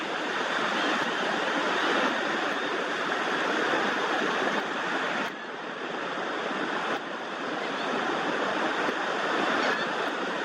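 Ocean waves washing in a continuous loud rush of surf, with a brief dip midway before the roar resumes.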